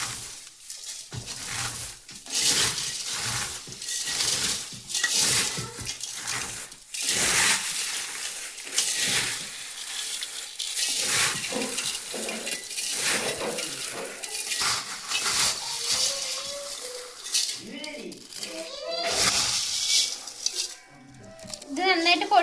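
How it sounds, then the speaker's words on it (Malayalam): Fried sev for a homemade mixture snack is crushed by hand, giving a run of repeated crunchy, rustling crackles at a close, moderate level, with someone talking toward the end. "നമ്മൾ നേരത്തെ വറുത്ത് കോരിയെടുത്ത് മിച്ചറിന്റെ ഈ സേവ് ഒന്ന് കൈവച്ചിട്ട് പൊടിച്ചെടുക്കാം"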